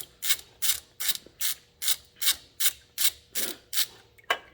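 A hand ratchet with a 3/4 inch deep socket clicks through about eleven quick, evenly spaced bursts while removing the rocker shaft bolts on a 1940 John Deere B tractor, close up and with no talk.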